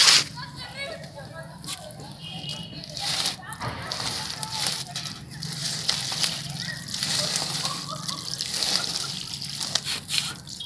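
Water is poured a little at a time onto soil in a home plant pot of spinach and fenugreek, giving a soft trickling and sloshing under steady talking by a woman.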